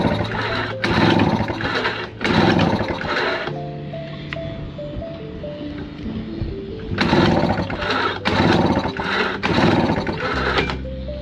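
A Tohatsu 3.5 dinghy outboard motor runs with a loud, buzzing sewing-machine rattle, dropping to a rough, uneven idle midway before revving hard again, close by.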